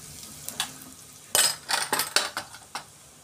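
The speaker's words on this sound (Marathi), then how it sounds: "तेल आपलं गरम झालेलं आहे. त्याच्यामध्येच आता आपण थोडंसं जिरं घालून घेणार आहे, थोडंसं चिमूटभर हिंग पण घालणार आहे आपण" Cumin seeds and a pinch of asafoetida dropped into hot oil in a pan for bitter gourd stir-fry, a short close sizzle mixed with metal spoon clinks and scraping, no talk.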